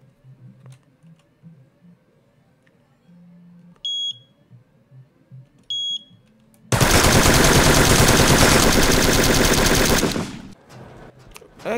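Rapid gunfire from turrets in the video game Sneak Thief, at The Compound level, erupts as a loud, dense sustained burst for about four seconds, after quieter game sounds and a couple of short electronic beeps.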